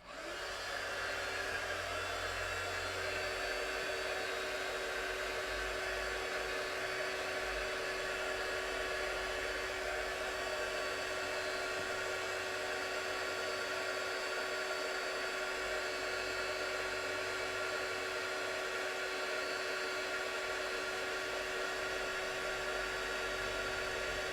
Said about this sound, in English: I'm just going to do this slightly away from the microphone because this one's a noisy heat tool